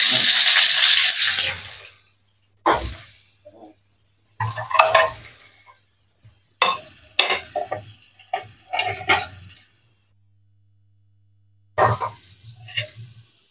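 Chili and shallots being sautéed in a pan, opening with a loud hiss that cuts off, followed by separate bursts of stirring and scraping with near-silent gaps between them.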